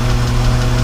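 A BMW E36 M3 with a 3.8-litre engine, bought for a track build, runs at a steady idle close by: a loud, continuous rumble with a faint knocking tick.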